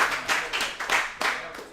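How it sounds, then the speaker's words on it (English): A small group gives a short, scattered round of clapping for high-school football linemen at a restaurant preview event, a handful of close, uneven claps that quickly die away. "Please give the linemen a round of applause."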